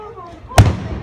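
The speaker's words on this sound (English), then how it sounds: "Just the fireworks." One sharp Fourth of July firework bang bursts loudly after a quiet moment, followed by a short rumbling decay, with voices faintly around it.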